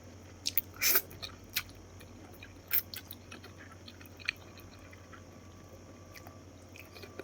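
Close-up eating of boiled freshwater seaweed soup cooked with duck, with a few soft bites and wet chewing sounds spread over a steady low background hum.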